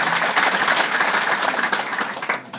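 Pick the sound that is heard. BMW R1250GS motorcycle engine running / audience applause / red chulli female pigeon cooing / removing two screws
audience applause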